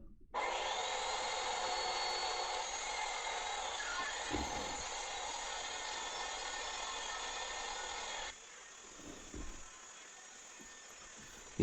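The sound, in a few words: table saw cutting 3-inch plywood strips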